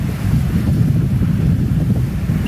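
Full, fast-flowing muddy river on a walk from Oxspring to Springvale, a dense, loud, continuous rushing roar heard up close and partly blurred by wind buffeting the microphone.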